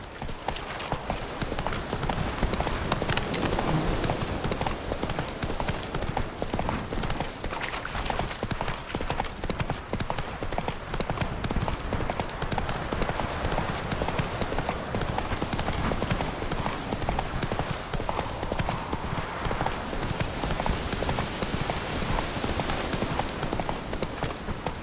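Roach, the horse in The Witcher 3, gallops in a fast, steady stream of close hoofbeats that runs throughout, with occasional faint game voices.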